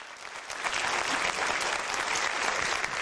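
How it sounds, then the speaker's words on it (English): Audience applause rising at an evening civic event, a dense, steady wash of many hands clapping that swells slightly after a moment and holds at full strength throughout. "And let's have a round of applause."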